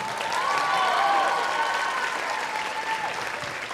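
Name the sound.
audience applause and cheering at a jazz concert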